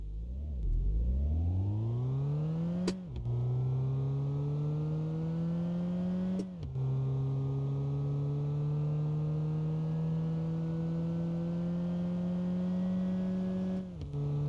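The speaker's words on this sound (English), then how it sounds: "we're going to give it full throttle all the way down and see what the top speed is" A car engine revs hard at full throttle down a road, rising steadily in pitch with brief dips at about 3, 6.5 and 14 seconds as gears change, loud and continuous throughout.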